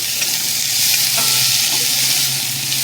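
Crushed ginger and garlic stir-fried with browned onion in a pan with little oil, a close, loud sizzle with scraping stirring strokes throughout; no talking.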